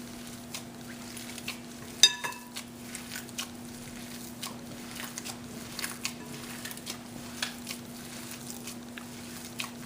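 Cooked potatoes being mashed by hand in a bowl for Gujarati curried potato fritters, giving soft, irregular squishing presses and light scrapes, with one sharper clink near the start, over a steady background hum.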